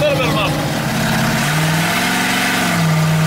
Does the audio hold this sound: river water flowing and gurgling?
no